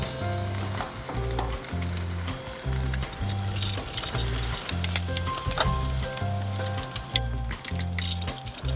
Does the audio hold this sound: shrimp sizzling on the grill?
yes